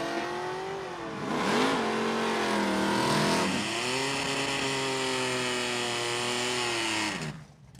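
A 4th gen Camaro and a 1st gen Camaro launch side by side at Numidia Dragway during ET finals drag racing, their engines roaring loud and close as the revs climb in a long, sustained surge that eases off at the end.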